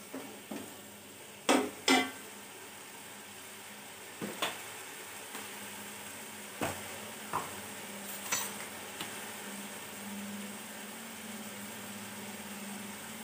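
Keema frying in a pan for pulao, a soft constant sizzle punctuated by intermittent clinks and scrapes of a spoon against the pot, quiet and close, no speech.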